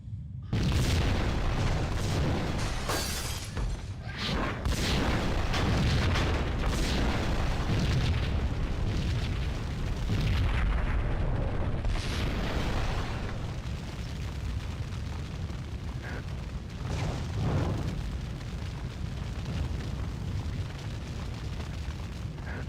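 Gasoline tank explosion in Max Payne, heard as a loud, sustained roaring boom with repeated heavy bursts and crackling rumble rolling on for over twenty seconds, close and dense, with no talk over it.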